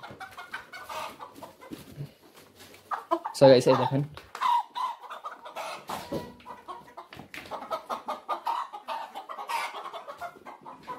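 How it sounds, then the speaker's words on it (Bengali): Chickens and a rooster cluck and squawk in bursts as they are caught by hand on a farm, with a flurry of loud flapping and squawking partway through, while someone talks over it. "এখানে আমি একটা মোরগ ধরলাম"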